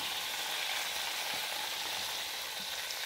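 Beef loin sears in a hot pan, browning on all sides, with a steady broadband sizzle and crackle throughout, close and even with no talk over it.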